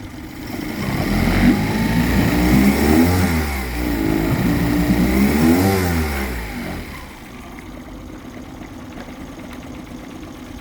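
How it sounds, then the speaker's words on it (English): A 2006 Mercury 8hp long-shaft four-stroke outboard motor revs in neutral, rising and falling through two throttle swells before dropping back to a steady, close idle; no talk. "I have it right now where I can give it throttle only without it shifting into gear."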